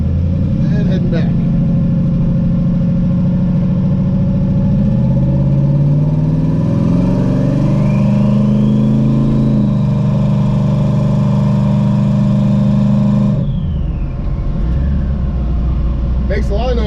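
A twin-turbo Camaro's engine rumbles loud and steady while driving on a street, its pitch rising and falling through gear changes, with an in-car voice speaking over it.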